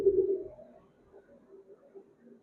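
A pigeon for sale in Bangalore coos close by, one strong low coo followed by softer, fainter murmuring coos.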